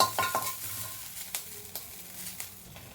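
Salt is stirred into a frying chili tempering for cucumber avalakki in a pan, with a soft sizzle and a few close spoon scrapes and taps over three seconds.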